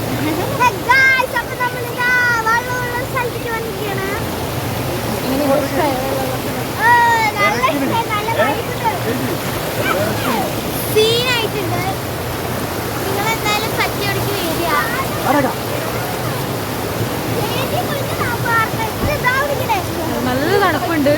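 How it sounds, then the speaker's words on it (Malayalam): Forceful water pours down at Meenvellam waterfall in Palakkad, a constant loud roar running under people talking close by throughout. "നല്ല ഫോഴ്സ് ഉള്ള വെള്ളം ഒഴിക്കാണ്."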